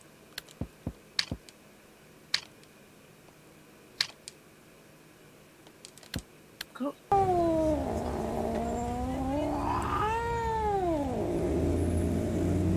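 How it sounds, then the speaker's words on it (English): A cat yowls in the horror game DreadOut 2. It is a drawn-out, wavering cry that rises and falls over a steady low hum, after several seconds of scattered soft clicks. "I found the cat who stole Kim's shoe."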